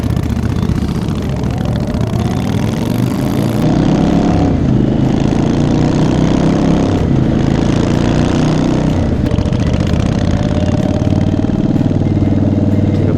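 Two motorcycles with four cylinders between them run together nearby, a steady loud engine drone at idle and low revs with no talk over it.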